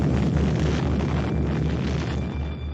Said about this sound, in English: the first nuclear weapon was detonated on the plains of New Mexico